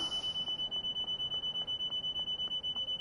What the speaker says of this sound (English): I can't do nothing about the beeping sound.